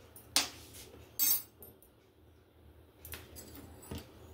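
A spoon scoops flour into a bowl while crispy corn is being prepared: two sharp metallic clinks, then softer scattered taps against the bowl, quiet and close.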